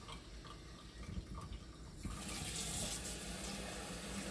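Tap water runs into a turkey carcass with its neck hole plugged, a steady hiss and splash that grows louder and fuller about halfway through as the flow increases, close by with no talk.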